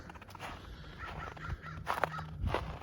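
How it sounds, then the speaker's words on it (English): A crow caws high in a tree on a snowy spring day, giving a few harsh, moderately distant calls in quick succession over quiet outdoor background. "that crow's way up there in that tree"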